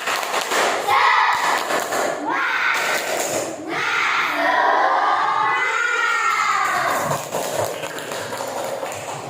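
A class of children performs the tepuk semangat clapping chant together, rhythmic claps mixed with loud chanted and shouted voices close by, rising and falling across the stretch.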